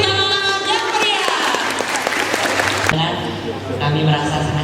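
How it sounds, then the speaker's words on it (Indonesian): Lively audience applause at a 2024 literacy festival book discussion, loud clapping mixed with a tonal musical backing and crowd noise, continuing throughout with a brief dip near the three-second mark. "Beri tepuk tangan yang meriah."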